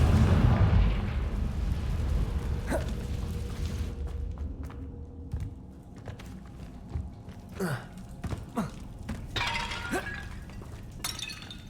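A Confringo blasting spell in a video game bursts with a heavy explosive blast, then glassy crackles, clinks and scattered debris hits follow over a fading rumble, with no voices.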